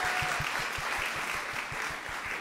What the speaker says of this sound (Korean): 김명현 씨한테 다시 한번 뜨거운 박수 보내주시죠.